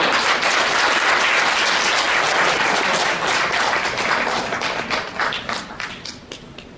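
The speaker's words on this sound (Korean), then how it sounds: "강사님께 다시 한번 큰 박수 부탁드립니다." An audience applauds at a workplace disability-awareness training session, a dense, loud wash of clapping from many hands that thins out and fades over the last couple of seconds.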